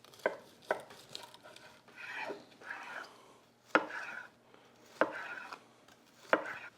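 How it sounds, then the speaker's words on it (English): Knife chopping through grilled ribeye steaks with grill marks on a cutting board: a handful of sharp, separate chops spaced irregularly, with softer slicing and rubbing sounds between them, close and fairly quiet, no talking. "Now it's time to chop into these bad boys."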